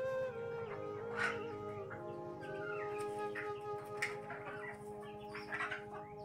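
Chickens on a farm cluck and squawk in scattered bursts over a constant low mechanical hum, fairly quiet and without talk.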